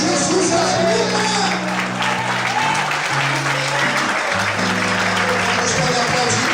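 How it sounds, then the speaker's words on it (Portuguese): Church congregation applauding, loud sustained clapping from a crowd, with shouting voices and a sustained musical chord underneath throughout. "Vamos para aplaudir ao Senhor"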